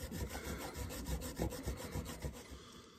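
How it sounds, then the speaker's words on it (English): A screwdriver scrapes old gasket material off the aluminum surface of a Homelite Super XL-923 82cc chainsaw, producing rapid, rough, rhythmic rasping strokes that are close and continuous throughout, without any talking. "Trying to rub off this gasket stuff with a screwdriver without mangling up the surface of this aluminum."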